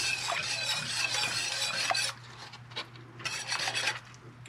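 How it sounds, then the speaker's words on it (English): Wire whisk scraping and rasping against a pot of redneck shotgun wedding soup, a steady brisk rubbing that pauses briefly midway, then resumes in shorter bursts. "Whisk it up, whisk it up."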